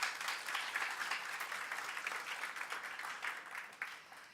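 An audience at a student government induction ceremony claps for an inductee, a dense, fairly quiet patter of many hands that swells at first and gradually thins and fades toward the end.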